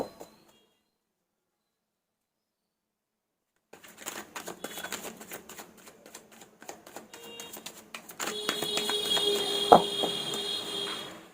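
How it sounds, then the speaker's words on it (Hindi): Tarot cards being shuffled by hand: after a near-silent start, a dense run of soft papery riffling and rustling continues steadily, growing louder and busier toward the end with a sharp snap near the close. "मैं एक बार और कार्ड को शफल करती हूँ"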